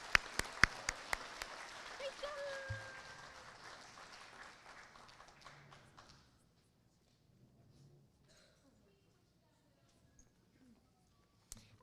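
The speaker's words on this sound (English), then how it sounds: "Let's give those 5th graders a big round of applause." A few loud, crisp handclaps at an elementary school awards ceremony for 5th graders quickly blur into a brief round of applause. It fades steadily and leaves a quiet room after a few seconds.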